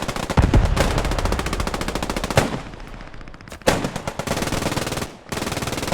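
Sustained bursts of machine gun fire fill a Post Scriptum match battle at Oosterbeek, loud and close with rapid repeated shots, brief pauses near the middle and end, and no voices.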